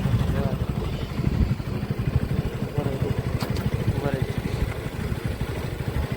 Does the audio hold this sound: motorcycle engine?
yes